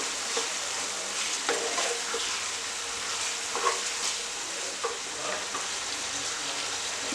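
Mutton samosa filling with chilli powder, coriander powder, salt and garam masala stirred in a hot pan, a steady sizzle running throughout with scattered spoon scrapes and taps, close and alone.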